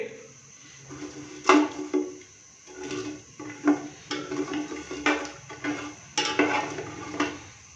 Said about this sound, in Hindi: साबुत ज़ीरा और साबुत ब्लैक पेपर को हल्का सा हमने फ्राई कर लिया है या कि हल्का सा रोस्ट कर लिया है।